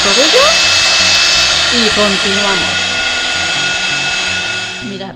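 A hair dryer dries a surface, held at a distance so it does not burn. Its loud, steady whir runs throughout while a person talks over it, and the noise eases slightly at the very end.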